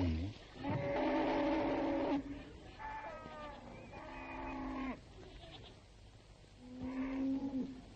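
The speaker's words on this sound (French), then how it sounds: "Le troupeau du village représente la richesse de ses habitants." A village cattle herd on the Senegal River lows, with several long, loud moos close by and spaced apart and a few quieter calls between them.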